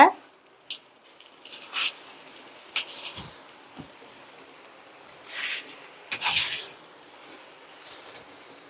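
Quail pieces being stirred while frying in a pan for a spicy Tamil quail fry, heard as soft sizzling with intermittent scraping and stirring bursts, moderately close and fairly faint.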